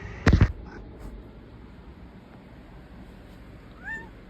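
A house cat sitting in a chair lets out a short, faint meow near the end, after a sharp loud knock at the start and a quiet room hush in between.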